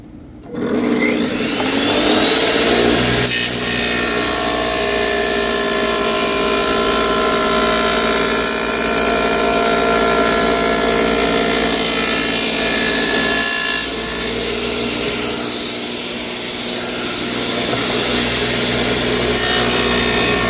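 A saw cuts wood for custom cabinets, giving a loud, continuous whining, rasping drone that holds steady for about twenty seconds with no talking.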